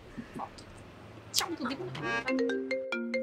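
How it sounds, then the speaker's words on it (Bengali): A mobile phone ringtone starts after a moment of talk, playing a bright, repeating electronic melody nearby, with voices speaking around it. "ফোন বাজে কোথায়? তাই তো ফোন"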